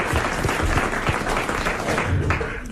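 A television studio audience bursts into close, vigorous applause, with many hands clapping in a dense, sustained roar for the whole stretch.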